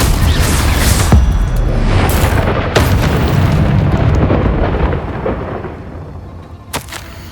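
Confringo spell explosions in Hogwarts Legacy: several heavy booming blasts with sharp cracks at the start, rumbling on loudly before fading toward a quieter close, with one last bright burst.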